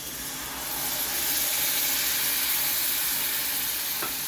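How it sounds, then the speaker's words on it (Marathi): Tamarind pulp goes into a hot pan of sizzling bombil (Bombay duck) for a Mumbai Saraswat bhujane, a steady loud frying hiss rising slightly as the liquid hits, with no talk. "आता मी ह्याच्यात हे चिंचेचं कोळ आहे ते घालणार आहे"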